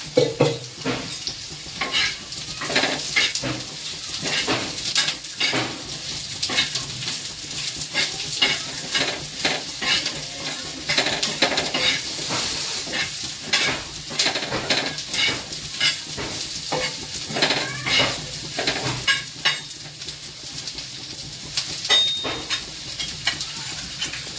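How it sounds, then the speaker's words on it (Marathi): Vegetables fry in oil in a pan for a paneer masala curry, a steady sizzle broken by regular scraping strokes of a spoon stirring them, close and continuous throughout. "त्यासाठी मी थोडंसं तेल टाकते। तेल टाकले की जरा लवकर नरम होतात।"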